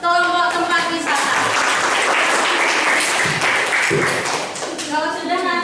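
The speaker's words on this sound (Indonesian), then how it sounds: "Tepuk tangan untuk kelompok tempat wisata." A classroom of students applauds a presenting group, brisk dense clapping that runs throughout, briefly overlapping a teacher's voice at the start and end.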